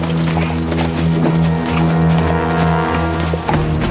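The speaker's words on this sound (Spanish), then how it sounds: "¡Mi caballo!" Horse hooves clip-clopping in a medieval setting of Charlemagne's era, a loud steady rhythmic clatter under a thick layer of music and ambience throughout.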